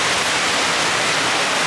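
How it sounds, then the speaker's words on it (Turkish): A heavy downpour falls outside during flooding rain, making a dense, unbroken hiss that fills the whole stretch with no voices. "Hava o kadar yağmurlu ki arkadaşlar."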